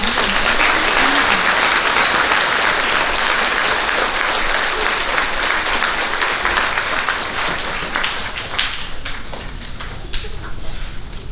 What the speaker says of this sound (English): give these students a big round of applause